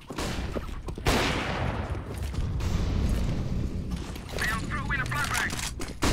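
Gunfire in a competitive first-person shooter match, sharp loud shots and rattling weapon mechanism clicks over busy game noise, with a player talking during the action.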